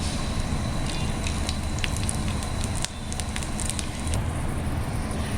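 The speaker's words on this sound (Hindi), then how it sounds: "इन सबको मैं धीमी आंच पर कम से कम 3 मिनट के लिए भूनूंगी।" Garlic cloves and spices roasting in a pan over a low flame while making prawns dum aloo, giving a steady close sizzle and crackle throughout with faint scattered pops and no talking.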